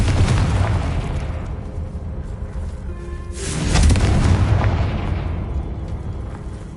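Explosive spell blasts from the video game Hogwarts Legacy: a dense stretch of rumbling booms and bursts, swelling into a louder, heavier blast about midway before settling back into a continuous crackling roar, with no talk.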